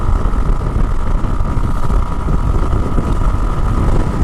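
A motorcycle cruises on a highway at around 100 km/h, giving a loud, constant engine drone mixed with heavy wind rush that stays steady throughout.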